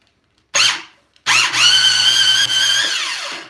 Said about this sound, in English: I had to hook up the drill to this bad boy